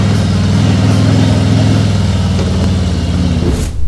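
A Harley-Davidson motorcycle's engine rumbles loud and close, a steady deep throb that builds as it revs to climb a rocky stone trail, fading slightly at the end.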